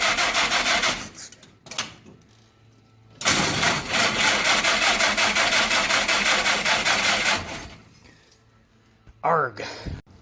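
An engine fitted with a new production Carter WO carburetor cranks over sluggishly on a weak battery, in a short burst and then a longer rhythmic grinding run of several seconds before cutting off.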